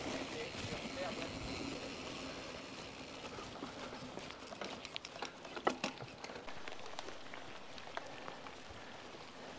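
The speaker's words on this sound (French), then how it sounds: "Bon, il pleut, j'espère que ça va pas durer trop longtemps" Rain falling during a gravel bike ride: a continuous hiss of drops pattering around the rider, mixed with rolling ride noise and scattered sharper ticks. The sound stays fairly loud and constant throughout.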